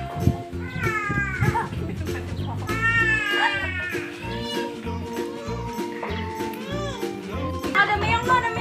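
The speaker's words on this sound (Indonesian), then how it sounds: "Ada meong lo, ada meong lo." Pet cat meowing repeatedly at home, several drawn-out, wavering meows close by, mixed with a child's and adults' voices talking and chattering around it.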